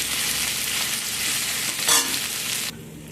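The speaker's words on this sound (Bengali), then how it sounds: "কিছুটা আদা লঙ্কা কুচি ভালো করে নাড়াচাড়া করে ভেজে নেবো" Chopped ginger and green chili stir-fry in hot oil with a steady, bright sizzle and scraping stirs, close and loud, one sharper clatter near the end before the frying drops away abruptly.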